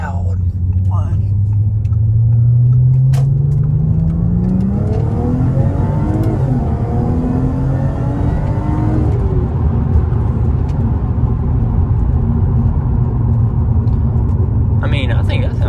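A supercharged Corvette C7 with headers, stock downpipes and a MagnaFlow exhaust revs up close by, its engine note climbing steadily in pitch over several seconds before settling into a loud, continuous rumble.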